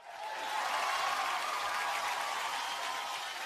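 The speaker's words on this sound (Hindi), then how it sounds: "जोरदार तालियां फॉर स्टार गिल्ड अवार्ड" Sustained applause from a large awards-show audience at the Star Guild Awards, a dense steady wash of many hands clapping that swells quickly and holds loud throughout with no talking.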